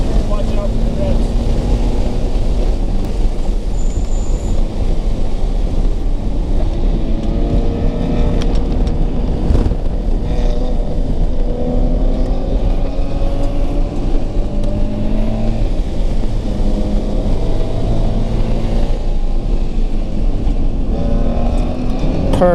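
A Toyota FRS sports car engine drones and revs continuously on a race track, pitch rising and falling through gear changes, steady and fairly loud throughout.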